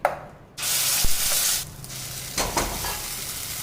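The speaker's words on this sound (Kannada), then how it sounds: "ಇದರಲ್ಲಿ ಇರ್ತಕ್ಕಂಥ ನೀರಿನ ಅಂಶ ಹೋಗೋವರೆಗೂ ಫ್ರೈ ಮಾಡ್ಕೊಳ್ಳೋಣ." Grated amla, beetroot and carrot fry in ghee in a hot pan, with bursts of loud hissing sizzle broken by clattering stirs and scrapes of a spoon against the pan.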